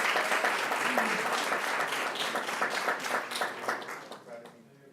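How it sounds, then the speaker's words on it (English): Applause at a school district board of trustees meeting honoring two high school seniors, a sustained round of clapping that gradually fades toward the end. "Let's give them a big round of applause"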